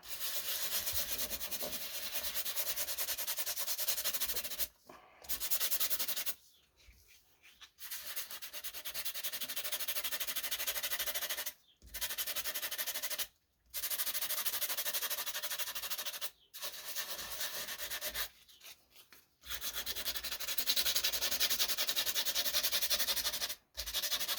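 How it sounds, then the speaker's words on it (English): Long strokes of sanding a handmade journal cover, a harsh scratchy rasp repeated in bursts with short pauses between, close and steady. "if I do a little bit of sanding"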